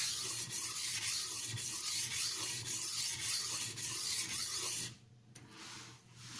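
A Tramontina Professional knife is sharpened on a soaked vintage Niles silicon carbide stone. Close, continuous wet scraping strokes repeat in a steady rhythm, then ease to a quieter, fainter rub toward the end.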